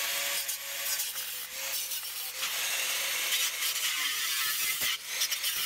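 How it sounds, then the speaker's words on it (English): A hacksaw or angle grinder cuts the edges off metal for a gusseted tee, giving a steady, continuous rasping grind that runs loud and close through the whole stretch with no talking. "with our angle grinder or your hacksaw, whatever you wish, remove those edges"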